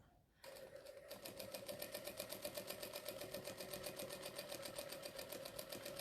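Home sewing machine doing free motion quilting around teddy shapes on fabric, a steady fast needle chatter with an even motor hum running continuously and fairly close.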